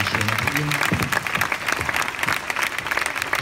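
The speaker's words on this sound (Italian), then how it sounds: "Purtroppo questo applauso va a lui," Concert audience applauds at a tribute concert, a dense, steady wash of clapping close by, with a voice briefly audible at the start.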